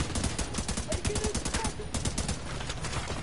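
Rapid bursts of automatic gunfire crackle nonstop in The Division 2, dense rattling shots stacked close together across the whole stretch.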